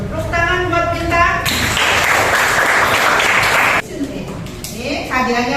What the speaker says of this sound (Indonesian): Tepuk tangan buat Bintang.